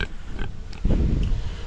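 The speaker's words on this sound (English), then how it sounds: "You're a good pig." An Idaho pasture pig grunts close by at breakfast time on a farm, a few low rumbling grunts with a heavier, sustained stretch toward the end.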